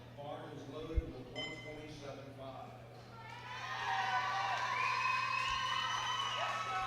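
A crowd at a weightlifting competition cheers and whistles for a lifter. The cheering swells midway and carries on loudly, with a commentator's voice heard before it.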